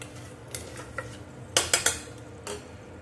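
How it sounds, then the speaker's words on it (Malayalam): Washed rice is stirred into masala in a pressure cooker pot, giving several sharp metallic clanks and scrapes of a spoon against the pot, close by, with a cluster of louder knocks near the middle and a soft background hum. "കഴുകി വച്ചിരിക്കുന്ന റൈസ് നമുക്ക് ജസ്റ്റ് ഒന്ന് ഇളക്കിച്ച് ആഡ് ചെയ്ത് വെക്കാം."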